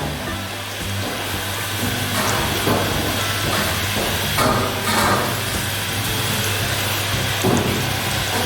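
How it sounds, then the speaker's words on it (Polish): Steady, dense sizzling and crackling of fries frying in hot oil, continuous and fairly loud, with faint clatters in the background. "zobacz, jak się fajnie smażą"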